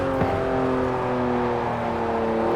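Porsche 911 Turbo S under full-throttle acceleration heard from inside, a loud steady engine drone with rising harmonic whine and road rumble.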